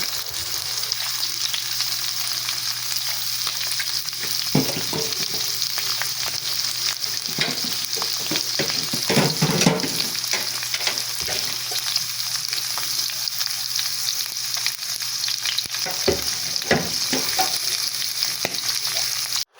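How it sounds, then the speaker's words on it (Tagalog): Chicken liver sautéing in a hot pan for chicken liver adobo, a steady broadband sizzle with occasional stirring scrapes and clinks throughout, close and continuous with no voices. "Atin pong isasama na din sa pagsasangkot sa ang ating chicken liver."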